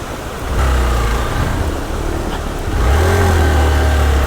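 A superbike engine on an off-road trail, with models such as a Versys 1000 and Z800 nearby, revs up loudly, eases slightly, then climbs again into a strong, sustained drone close by.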